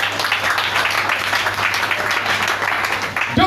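Church congregation applauding during a sermon, a steady wash of many hands clapping at moderate distance, sustained throughout with a brief voice at the end.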